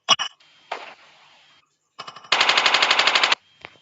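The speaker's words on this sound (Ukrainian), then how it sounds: "хтось стріляє." Bursts of loud automatic gunfire crackle in short volleys in the video game Chicken Gun, with one long sustained burst near the end, sharp and close.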